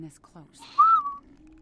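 A character in the video game Halo 3: ODST gives a short rising-and-falling whistle, clear and close, preceded by brief murmured voices.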